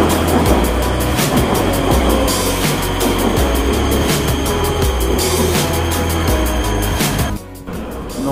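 A Prague metro train rumbles through a dark tunnel, a loud continuous roar with rhythmic rattling from the wheels and carriage, steady throughout before a brief dip near the end.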